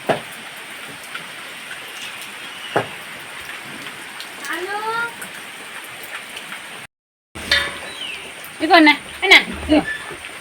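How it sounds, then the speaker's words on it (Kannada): Light rain patters in the background while birds chirp intermittently; a brief dropout occurs midway, followed by busier chirping and rustling. "ಮಳೆ ಸಹ ಬರ್ತಾ ಉಂಟು ನೋಡಿ, ಮಳೆ ಬರ್ತಾ ಉಂಟು."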